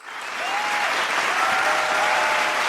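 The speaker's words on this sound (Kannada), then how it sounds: "ದಯವಿಟ್ಟು ಮತ್ತೊಮ್ಮೆ ಜೋರಾದ ಚಪ್ಪಾಳೆ" An audience at the Vaidya Ratna award ceremony breaks into applause, a dense, steady wash of many hands clapping that swells quickly and holds, close and loud with no talk over it.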